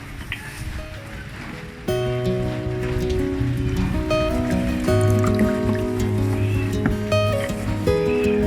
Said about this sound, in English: I will add 250 milliliters of distilled water into the 10 pieces of wrigglers